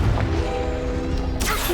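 The Confringo spell is cast in the video game Hogwarts Legacy: a brief humming, tonal shimmer builds for about a second, then ends in a sharp, bright burst.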